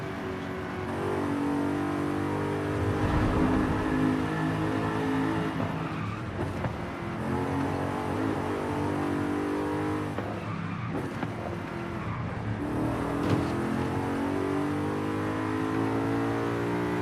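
Car engine in Forza Horizon 5 revving and accelerating, a steady droning roar with rising and falling pitch through gear changes, sustained for over fifteen seconds with no talk.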